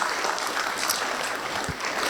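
Guests at a Kazakh bride's farewell celebration applaud together in a steady, dense burst of clapping that runs evenly throughout, with no voices over it.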